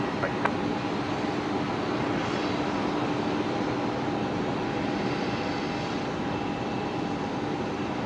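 An Emirates Boeing 777 rolls off the runway at Brisbane Airport with a steady, broad jet-engine rumble that holds at even loudness, moderately distant, with a faint tonal whine laid over it and no voices.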